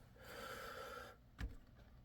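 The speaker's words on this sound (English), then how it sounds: "Sorry, I'm sniffling." A person coming down with a cold gives one short, sharp sniffle close by, set against quiet room noise with no talking.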